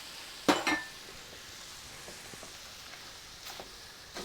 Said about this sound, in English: What we do now is deglaze it with the white wine.